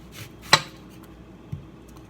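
A kitchen knife cutting an onion on a board, two distinct sharp knocks of the blade hitting the board about a second apart, fairly close, with quiet background between.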